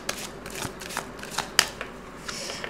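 Tarot cards being shuffled by hand, soft papery riffles and flicks coming in irregular bursts, quiet and close, with one sharper snap partway through and no talking.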